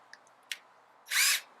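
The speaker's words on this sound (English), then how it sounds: "Realised that the first drill bit was a little bit too small because it's too hard to go in." A power drill bores into hard macrocarpa timber for backyard planter boxes: a couple of small clicks, then one short, loud whirring burst.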